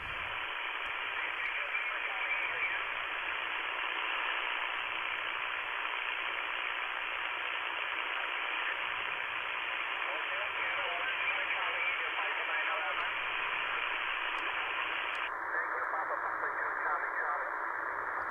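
A C. Crane Skywave SSB shortwave radio gives off steady band-limited static hiss with faint, garbled speech underneath. Partway through, the bandwidth narrows and the noise gets slightly duller.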